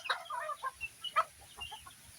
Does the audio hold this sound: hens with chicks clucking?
yes